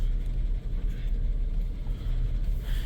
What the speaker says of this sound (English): the noise is louder when you put it in gear, so when the engine's under load